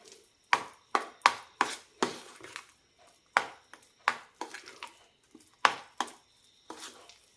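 A jackfruit and puttu flour dough with a pinch of salt and ghee being mixed in a bowl, sharp close knocks and scrapes in an uneven rhythm of a dozen or so strokes with quiet gaps between, no talking.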